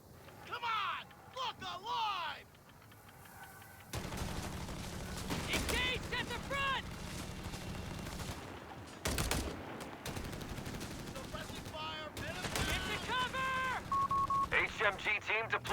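Machine gun fire rattles in a Company of Heroes 3 battle, mixed with other gunfire, explosions and mechanical battlefield clatter, while commentators talk steadily over the loud, shifting combat.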